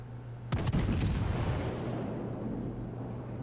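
A single heavy naval gun salvo from the battleship Gneisenau in the World of Warships game cracks out sharply, then a long rolling boom decays over a low steady background hum.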